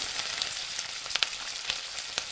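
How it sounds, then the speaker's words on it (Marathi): Steady hot-oil sizzle of lentils and rice roasting in a kadhai, with a few sharper crackles and pops standing out now and then; no voices. "तेल तापायला कढईत ठेवून त्याच्यामध्ये आपण डाळ आणि जे तांदूळ आहेत ते भाजून घेऊया"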